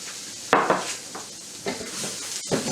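Shrimp fried rice stirred in a pan, with a handful of clattering scrapes and knocks of a utensil against metal over a faint sizzle.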